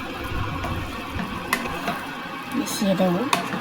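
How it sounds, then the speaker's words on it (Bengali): Gondhoraj lemon being stirred into chicken in a pan, soft sizzling with scraping spatula strokes and a couple of sharp utensil taps, while someone talks over it. "এবার গন্ধরাজ লেবুটাকে পুরো নেড়ে চেড়ে ওর সাথে মিশিয়ে দেবো।"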